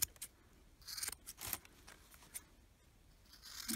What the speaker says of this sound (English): kind of bend your scissors around as you're cutting.